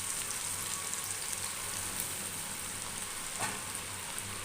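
Macaroni frying in hot ghee, a steady dense sizzle and crackle that holds evenly throughout with no voices.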